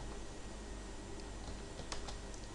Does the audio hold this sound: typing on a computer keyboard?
yes